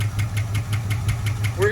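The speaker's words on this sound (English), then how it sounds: "now that the dart has sat for so long, we have noises that aren't super happy" A 1976 Dodge Dart Sport's 318 engine, unhappy after sitting a long time, idles with a steady rhythmic knocking tick over low rumble, while someone briefly speaks at the end.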